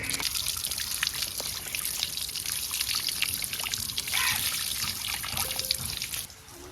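Tap water trickles and splashes into a sink as a fish is washed, a steady close running stream with small drips and clatters, fading slightly at the end, with no talking.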